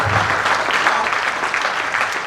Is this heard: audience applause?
yes